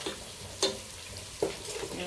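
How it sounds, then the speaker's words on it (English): Capsicum sizzles and fries in hot oil in a pan, a steady close crackle with a few sharper scrapes of stirring standing out. "Let me fry this capsicum in this oil a little bit."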